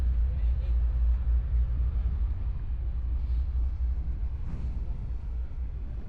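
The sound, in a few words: ship engine exhaust rumbling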